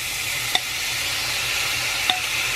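Onions and mushrooms sizzle and fry steadily in grapeseed oil in a pan, a continuous hiss broken by two brief clinks of a utensil stirring against the pan.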